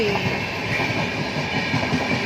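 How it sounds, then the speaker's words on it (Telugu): A train runs along railway tracks near Secunderabad, giving a continuous close rumble with rhythmic wheel clatter and no voices over it. "ఇంకా వేరే ట్రైన్ కూడా అక్కడ పట్టాల మీద వెళ్తుంది, ట్రాక్ మీద"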